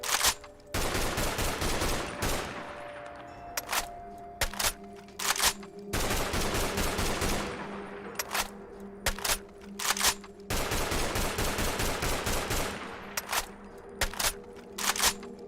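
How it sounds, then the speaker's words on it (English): Battle rifle gunfire in the Fallout 4 video game: loud, close single shots and quick strings of cracks fired in rhythmic bursts, separated by short pauses with a low ringing hum between volleys. "it's just a nice little battle rifle"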